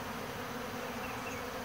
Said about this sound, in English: these bees are hungry